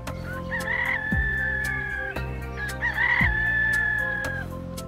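Two long rooster crows ring out one after another, clear and fairly near, over a soft sustained musical background.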